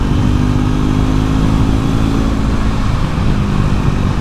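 Triumph Scrambler 400X single-cylinder motorcycle engine running steadily and picking up speed, a loud, close, continuous rumble with no pauses.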